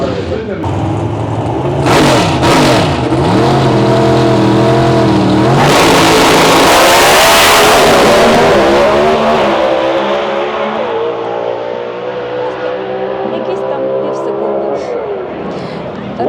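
Street race cars rev and accelerate at a motorsport track, loud engine tones rising and falling with a surge of noise as a car passes, while a person talks over it.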